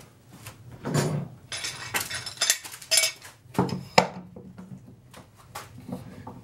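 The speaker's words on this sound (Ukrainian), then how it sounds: "беру закріплюю заготовку" A wooden blank for flat-relief woodcarving is clamped down, giving a string of close clattering knocks, metallic clinks and scrapes in irregular bursts with brief pauses between.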